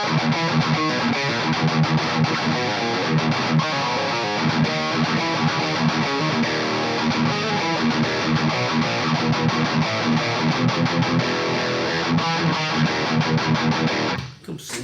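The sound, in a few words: guitar through modded Marshall with KHDK Ghoul Screamer boost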